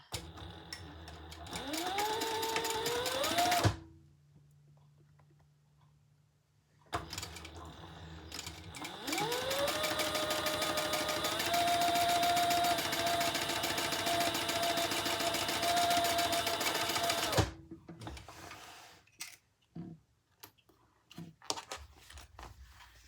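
A sewing machine stitches a seam on a crossbody bag in two steady runs, its motor whirring at an even pace with a quiet break between bursts, then soft handling clicks as the fabric is moved.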